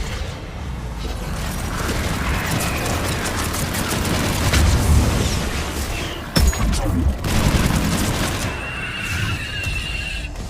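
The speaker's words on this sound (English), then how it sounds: "Missiles are hot." Missiles launching and exploding in the video game Mass Effect, a dense, loud roar of blasts and rumbling fire with a sharp crack near the middle, and a voice briefly heard over the din.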